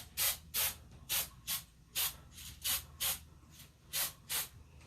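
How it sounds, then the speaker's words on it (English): Butter spray hisses from a can onto a cooking pan in about ten short, evenly spaced bursts, close and moderately loud over a low kitchen hum. "now I have some butter spray. And I'm just going to spray my pan"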